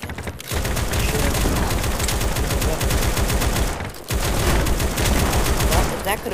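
Continuous rapid fire from a Vector submachine gun in the browser shooter battledudes.io, loud and dense, broken by one short gap before the stream resumes.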